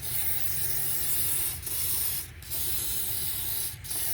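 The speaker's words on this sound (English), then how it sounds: "WD-40 all over it." WD-40 lubricant sprays continuously onto the fuel pump area of a Silverado truck, a loud steady hiss with two brief dips, close and alone.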